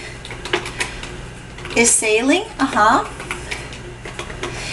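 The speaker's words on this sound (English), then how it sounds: "Now notice I have not been typing correctly" Scattered clicks of keys being typed on a computer keyboard, irregular and fairly close, with a short spoken phrase briefly over the tapping in the middle.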